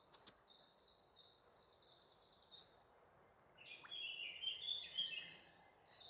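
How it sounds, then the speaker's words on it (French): Birds singing by the water during a calm outdoor moment: faint, high chirping and warbling phrases carry over a soft, steady ambient hiss, growing slightly busier toward the end. "Cette méditation se fait aussi avec le chant des oiseaux."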